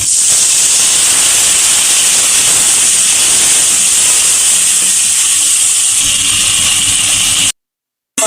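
Tomato paste dropped into a frying spice masala for a Bengali aloo paneer: loud, steady, close sizzling hiss that runs unbroken for several seconds before cutting out.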